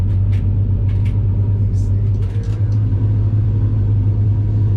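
A NASCAR Xfinity throwback race car at Darlington idles and rolls out with a loud, low, steady engine rumble close by, while people talk faintly underneath.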